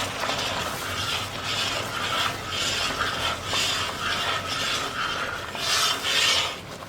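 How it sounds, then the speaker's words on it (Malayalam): Pazham pradhaman payasam with coconut milk is stirred in a pot, giving a rhythmic, repeated scraping and rubbing sound in regular strokes, close and alone. "ഇതൊന്ന് നന്നായിട്ട് ഇളക്കി ലൂസാക്കി എടുക്കാം"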